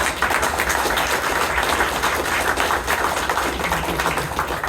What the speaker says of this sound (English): let's give Nancy a big round of applause